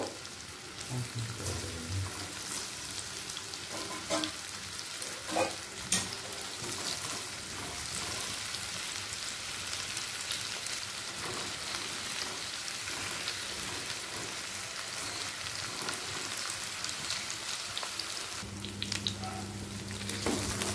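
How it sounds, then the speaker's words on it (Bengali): Paneer pieces fry in hot white oil in a wok, giving a steady, quiet crackling sizzle that runs throughout, with occasional faint knocks from turning the pieces. "এবার উল্টো পাল্টে সব দিকটা ভেজে নেব।"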